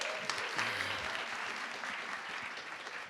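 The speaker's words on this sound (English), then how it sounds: "Round of applause to CreatorIQ." An audience at a marketing conference claps in a steady, moderately distant round of applause lasting about three seconds, with a brief voice near the start.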